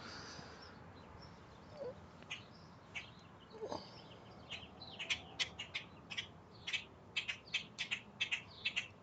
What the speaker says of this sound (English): You can hear them going kirk, kirk, kirk, kirk, kirk, kirk.